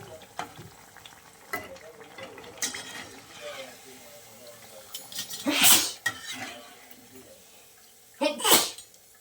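Curry leaf bondas frying in oil and being turned over, with soft clinks and scrapes punctuated by two loud bursts of sizzling splatter as pieces are flipped, and a voice briefly in the background.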